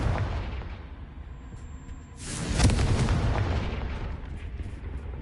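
A Confringo fire spell blasts in Hogwarts Legacy, a sudden loud boom that bursts partway through and then rolls into a long, rumbling decay over low background noise.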